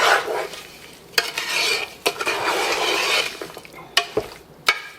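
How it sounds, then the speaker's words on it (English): Apricots being stirred in a pot, a steady wet shuffling with a few sharp clinks of the utensil against the pot, close and alone with no voices. "Just give them a nice little stir here."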